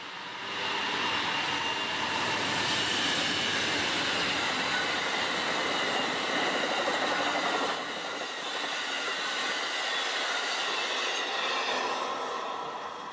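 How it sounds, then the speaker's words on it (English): An Amtrak passenger train passes steadily, a loud, continuous rumble of wheels and cars with faint rail squeal, holding for over ten seconds with a brief dip midway. "But sometimes the Amtrak they will pass by here as well."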